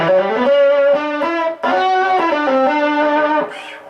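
A distortion pedal with voice and tone knobs drives a sustained, gritty instrument tone, held notes changing pitch a few times over nearly four seconds, loud and upfront with no talking, ending in a brief noisy tail.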